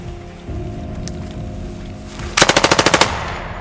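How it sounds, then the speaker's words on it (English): A sharp burst of machine gun fire at a special forces training site, about ten rapid evenly spaced shots near the end, loud and close over a low steady background rumble. "except for occasional machine gun fire"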